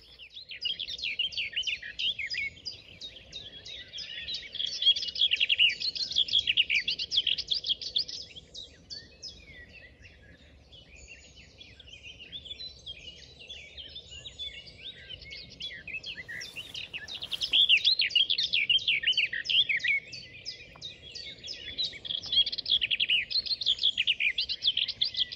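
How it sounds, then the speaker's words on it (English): A blue tit sings in the May dawn chorus in Hembury woods. Repeated high, bright song phrases rise and fade in waves over a soft woodland background, fairly close, with no talking. "There's a blue tit singing just above us."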